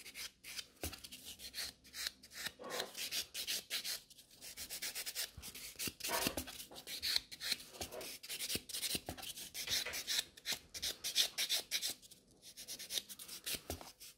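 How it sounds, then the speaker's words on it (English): A 100 grit buffer scrubs over natural nails in quick, close, quiet rasping strokes, short bursts repeating steadily with brief pauses between. "So I'm using a 100 grit buffer to remove the shine from the nails."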